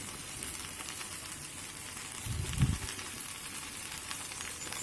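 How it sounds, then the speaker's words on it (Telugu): Ivy gourd pieces fry in a generous amount of oil in a pan, giving a faint, steady sizzling hiss with a slightly louder burst of crackle midway, and no voices. "కొంచెం ఆయిల్ ఎక్కువ వేస్తేనే బాగా ఫ్రై అవుతాయి"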